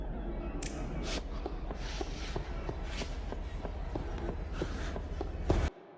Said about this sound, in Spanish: podríamos decir de que es una persona caminando dentro de una cueva